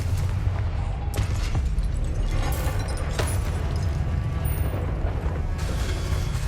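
Confringo spell explosions in Hogwarts Legacy on PS5 make a loud, continuous, rumbling roar of overlapping blasts with heavy low-end boom throughout.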